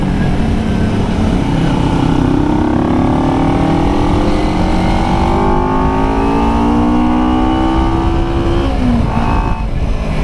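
A 2009 Kawasaki Ninja 250R twin revs up, its engine note climbing slowly and steadily in pitch for several seconds before dropping back, loud and close with no voices.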